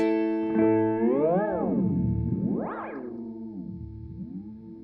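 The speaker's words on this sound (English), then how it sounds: "if you want to get some spaceship noises" Warbling sci-fi spaceship tones from a JHS Panther Cub delay pedal, pitch sweeping up and down in swooping arcs with echoing modulation, no voices.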